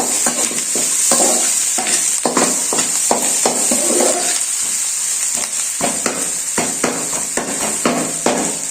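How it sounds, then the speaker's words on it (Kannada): Onions frying in a pan, a steady hiss of sizzling oil broken by repeated loud scraping strikes of a spoon against the metal, close and busy with no talk. "ಈರುಳ್ಳಿ ಚೆನ್ನಾಗಿ ಫ್ರೈ ಆಗಬೇಕು"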